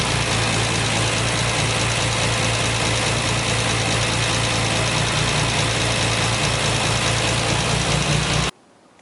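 A 1968 MGC engine running steadily after its ignition coil was replaced, a loud, even idle with a constant low rumble that holds for about eight and a half seconds and then cuts off abruptly.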